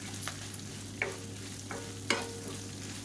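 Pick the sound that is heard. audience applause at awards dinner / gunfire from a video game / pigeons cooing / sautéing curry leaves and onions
sautéing curry leaves and onions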